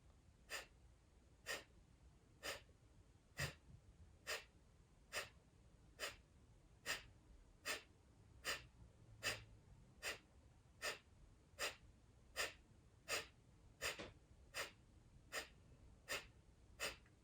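Breath of fire breathwork: sharp, forceful nasal exhales repeat about once a second in a steady, even rhythm over a quiet background, close and fairly faint, with no talk.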